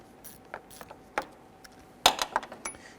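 A wrench works on a 13mm bolt on a Jeep Grand Cherokee, producing scattered soft metallic clicks and taps that end in a brief cluster of sharper rattling clinks, close by and quiet.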